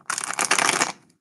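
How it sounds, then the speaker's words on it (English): A deck of tarot cards riffled and shuffled by hand during a reading, one quick, crisp burst of papery flutter lasting about a second, close up. "Let me just shuffle these up."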